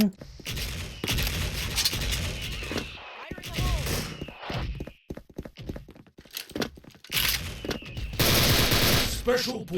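A-91 rifle fire in the online shooter Special Force comes in rapid automatic bursts separated by short pauses, loud and close, mixed with footsteps and other in-game noise, and a voice talks over it.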